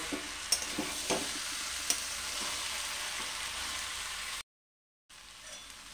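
Soaked green peas sauté in a pan, giving a continuous hissing fry with a few faint stirring taps. The sound cuts out completely for a moment, then resumes quieter.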